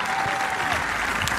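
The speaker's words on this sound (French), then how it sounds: "Alors on les applaudit très fort." Crowd at a men's prestige volleyball final at a beach tournament in Saint-Cast-le-Guildo applauds loudly and steadily, a dense wash of clapping that fills the whole moment with no pause.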